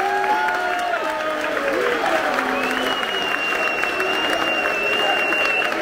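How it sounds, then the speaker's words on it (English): Football crowd cheering and applauding after a penalty, a dense, steady roar of clapping and shouts from a stadium full of fans, loud and continuous throughout. "The crowd go wild."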